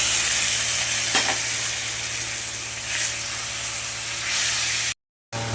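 Water poured into a hot pan of spices and tomato bursts into a loud, steady hissing sizzle with a few sharper spurts, ending abruptly in a brief silence near the end.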